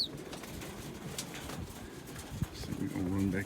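Young racing pigeons coo at the loft on a sunny day, soft low calls with a flutter of wings, heard close under a person speaking.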